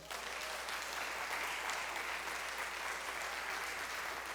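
A church congregation at a worship service applauds, a steady, moderately distant blanket of many hands clapping that stays even from start to finish with no speech.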